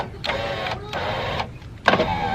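A car's electric power window motor, just fitted with a repaired switch, whirs in three short runs separated by brief pauses, the last burst starting with a sharper clunk, close and fairly loud.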